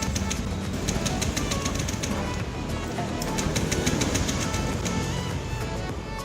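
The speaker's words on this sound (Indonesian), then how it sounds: "Lalu hidupkan mesin sampai mesin mati." Car engine running steadily after being started with the fuel pump connector unplugged during a fuel pressure check, continuing until it stalls; a constant near hum with faint ticking throughout.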